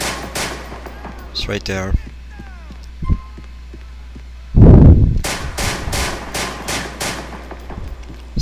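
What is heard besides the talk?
gunshots in the video game GTA IV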